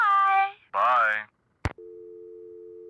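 In the Nancy Drew: The White Wolf of Icicle Creek game, brief voiced speech gives way to a sharp click of a phone line, then a steady, unbroken telephone tone.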